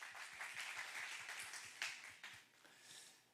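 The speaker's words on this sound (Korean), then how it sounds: "우리의 찬양을 받으신 하나님께 우리 영광의 박수 올려드리길 원합니다." A church congregation at a Thursday worship service gives a steady round of applause, dense clapping spread evenly for about three seconds before tapering slightly, fairly quiet overall.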